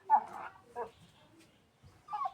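A puppy whimpers in a few short, faint, high whines separated by quiet gaps, close by.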